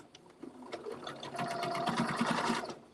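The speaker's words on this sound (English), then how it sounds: "this particular machine does not like sewing uphill very much" A sewing machine stitches a quarter-inch seam, its motor whirring steadily after a few brief starts, loud and close, rising into a continuous run before slowing at the end.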